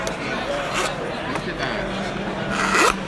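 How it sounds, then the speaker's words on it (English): Rasping scrapes of a butter knife blade drawn through a V-notch sharpener to remove metal, several gritty strokes heard close, with a busy show crowd chattering in the background. "I'm going to have to use the V-notch because I really got to cut some metal off the blade"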